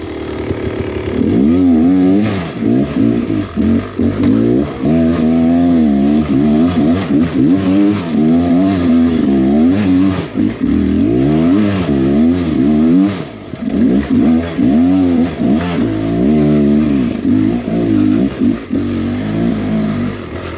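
A Beta X Trainer 300 enduro motorcycle engine revs loud and close in repeated surging bursts on a hard enduro ride, the pitch rising and falling unevenly as the rider works the throttle.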